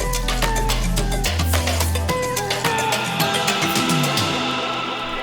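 An electronic dance build-up heading toward a drop, with shakers, claps and extra percussion layered over dense synths and a heavy low end, loud and continuous throughout.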